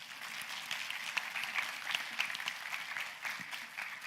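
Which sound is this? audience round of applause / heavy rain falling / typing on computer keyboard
audience round of applause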